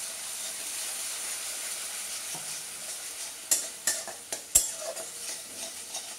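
Spices such as turmeric and chili powder sizzle gently in a pan while being stirred, with several sharp clinks of a spatula or spoon against the metal, quiet and close, and no talking.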